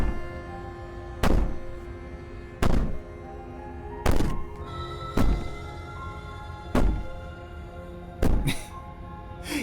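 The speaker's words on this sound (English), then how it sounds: "Bang on the door all you want, it'll only make you bleed out faster." Heavy banging on a door in the horror game Slay the Princess, six loud, evenly spaced thuds about every second and a half, each booming and reverberant, with quiet ambience between them.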